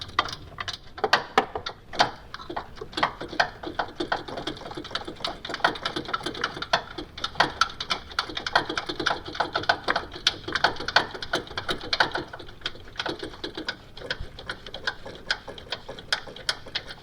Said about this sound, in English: Now we'll get the other bolts off.